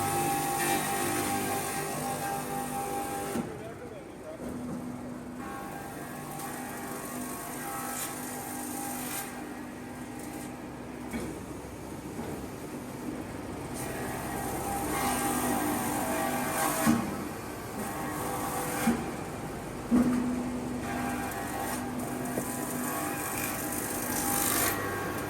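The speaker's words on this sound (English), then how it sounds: "raw logs are fed into the machine, where powerful rotating blades begin to slice the wood into thin, uniform shavings" A wood shaving machine with rotating blades slices raw logs into thin, uniform shavings, giving a steady grinding, rasping roar throughout, with a few louder scraping bursts later on.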